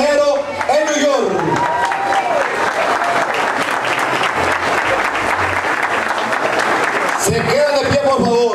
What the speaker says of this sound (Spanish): ustedes se pongan de pie para que le den un fuerte aplauso al equipo Los Bucaneros en New York